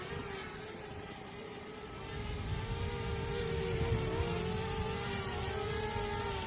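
XK X450 Aviator VTOL RC aircraft hovering and climbing in wind on its maiden flight, a steady whining motor and propeller drone with a tonal line that wavers, growing louder and fuller partway through, with no talking.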